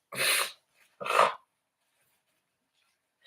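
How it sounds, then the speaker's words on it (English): Two sharp, breathy sneezes close to the mic, about a second apart, followed by quiet. "I'm going to be sneezing / blowing my nose"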